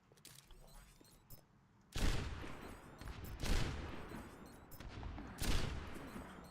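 Sniper rifle shots from a Widow in a video game, three loud sharp cracks spaced about a second and a half apart, each trailing off in a short decay over a steady low background.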